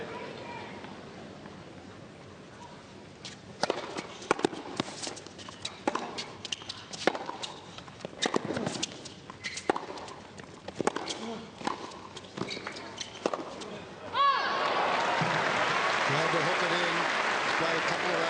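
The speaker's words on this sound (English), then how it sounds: "Capacity crowd at Rod Laver Arena settling in their seats" A capacity tennis crowd at Rod Laver Arena during an Australian Open quarter-final shuffles and settles, with scattered claps and footsteps, then swells into a steady, broad murmur of many people.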